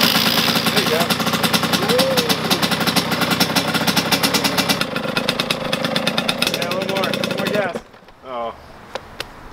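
A small pit bike engine revs and idles loudly in rapid popping pulses, then cuts off abruptly near the end, leaving brief voices.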